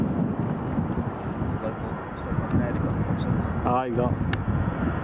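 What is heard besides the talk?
EasyJet airliner departing at Edinburgh Airport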